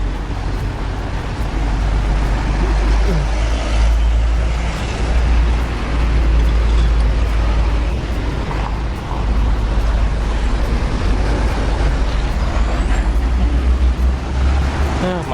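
Busy rush-hour road traffic near Palembang, with trucks and buses, makes a steady low rumble of passing engines and tyre noise close by, continuous throughout with no clear speech.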